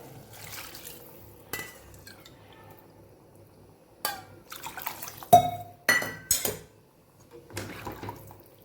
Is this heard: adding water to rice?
yes